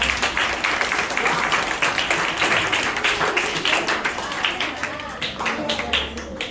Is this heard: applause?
yes